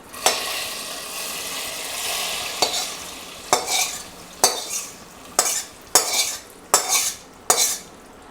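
Fried cashews, raisins and dried chilli are tipped onto khichuri, heard as a soft sizzle followed by a run of sharp, evenly spaced clinks of a metal spoon against a pot, close and clear, with no talking.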